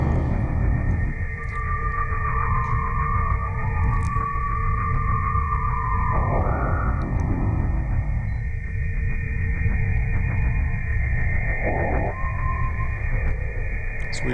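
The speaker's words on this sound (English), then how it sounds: "The sounds you're hearing are a sonification of the natural radio emissions and plasma waves that we" Sonified natural radio emissions and plasma waves recorded near Earth during the Juno spacecraft flyby: eerie whistling and sweeping tones, whale-like glides and faint ticks over a dense, loud, continuous rumble.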